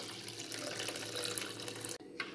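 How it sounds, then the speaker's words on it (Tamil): Blended tomato and tamarind water poured into a pot for tomato rasam, a continuous splashing liquid pour that stops abruptly near the end, followed by a brief trickle. "கூடவே புளி கரைச்சி ஊற்றிக்கலாம்."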